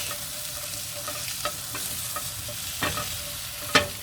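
Matar paneer's tomato and onion mixture is stirred in a pan with no added oil, a low steady sizzle broken by a few sharp scrapes and clicks of the spoon, the loudest near the end.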